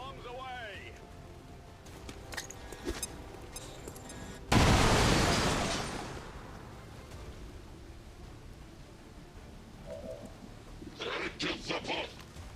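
A grenade detonating in XCOM 2, one sudden loud blast that decays over a second or two amid quieter game sounds and effects, with a voice talking around it.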